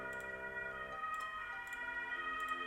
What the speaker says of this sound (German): Oh, sorry, hier fährt jetzt gerade der Krankenwagen vorbei.